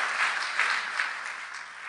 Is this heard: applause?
yes